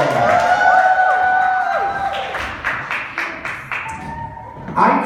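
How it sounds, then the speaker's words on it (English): A church audience applauds the music department, scattered claps and crowd noise rising under lingering tones and a voice, growing into a short, uneven round of clapping. "Let's give our music department a round of applause."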